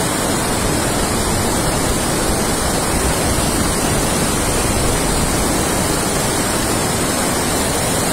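The Tanaro river rushes beneath the Meier bridge as a loud, dense, continuous roar of flowing water, steady throughout with no voices.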